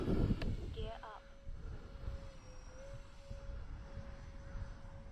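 A small airplane's engine drones through a takeoff roll with no takeoff flaps set, while a steady tone runs underneath. A short burst of noise opens the clip, and then the engine hum holds at a moderate level.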